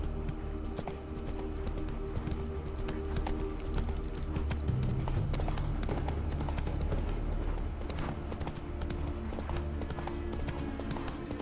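Geralt's horse Roach galloping in the video game The Witcher 3: Wild Hunt, a steady, continuous run of hoofbeats close by over a low game ambience, without speech.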